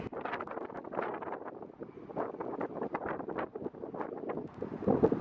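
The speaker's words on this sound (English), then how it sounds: "As you can hear, it is very, very windy." Strong wind gusts buffet the microphone at the top of the Presidential Library in Little Rock, a rough, continuous rumbling roar that surges and dips with each gust, close and fairly loud, with no voices.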